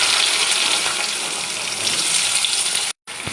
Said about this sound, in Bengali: এবার কড়াইয়ের মধ্যে পেঁয়াজ দিয়ে দিতে হবে